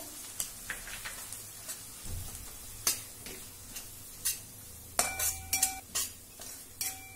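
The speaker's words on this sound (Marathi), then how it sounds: "आता यामध्ये रवा घालूया. 2 टेबलस्पून रवा घालते आहे." Semolina stirred into a ragi mixture sautéing in a pan: a spoon scrapes and taps against the pan in quiet irregular strokes, with a cluster of sharper clinks near the end and no talking.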